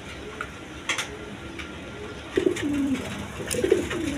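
A pair of beauty pigeons coo softly, with a few low rolling coos rising toward the end over a steady background hum and scattered clicks.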